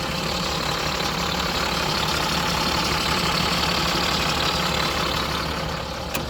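A school bus's International 7.6-liter DT diesel engine idles steadily and loudly nearby with a constant low rumble and clatter, no talking.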